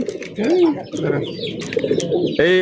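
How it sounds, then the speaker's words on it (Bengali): Pigeons, including Danish pigeons, coo in low, rolling throaty calls, several overlapping and close by at a pigeon farm, with rustling and a brief voice mixed in. "আদর ভাই ও বড় ভাই এগুলো কি কবুতর ভাই?"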